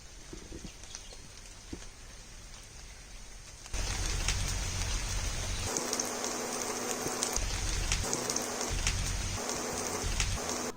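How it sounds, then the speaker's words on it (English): Steady rain falls outdoors, a soft broadband hiss that swells noticeably louder partway through and keeps going with scattered drips and patter, with no voices. "What a coincidence! It's actually raining right now."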